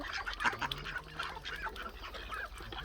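A flock of farm ducks, turkeys and chickens eating bread, with busy overlapping honking, quacking and clucking close by over a low steady background rumble.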